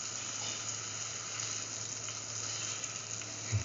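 Egg sizzles in a frying pan for a scrambled egg and potato stir fry, a steady, fairly quiet hiss that continues evenly, ending with a couple of small pops or clicks.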